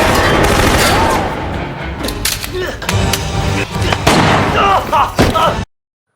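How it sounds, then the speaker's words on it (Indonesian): Rapid bursts of gunfire from a bank robbery film shootout crack out loudly in quick clusters, mixed with impacts and film sound effects, then cut off abruptly. "Frank berhadapan dengan Tintin dan ia berhasil menembak kaki Tintin."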